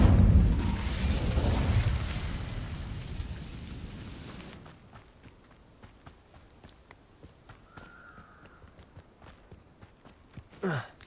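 An Incendio fire spell cast in Hogwarts Legacy bursts out as a loud, roaring whoosh of flame that rumbles for several seconds and then cuts off, leaving quiet ticking footsteps and small game sounds.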